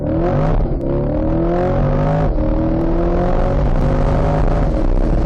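A loud 2020 Chevrolet C8 Corvette Stingray Z51 engine revs and accelerates hard on a test drive, pitch climbing through several gear shifts, close and continuous.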